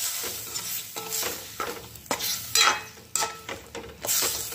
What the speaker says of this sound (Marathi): आता चमच्यामध्ये तेल घेऊन हा कढीपत्ता आता मी मस्त तळून घेणार आहे भाजीमध्ये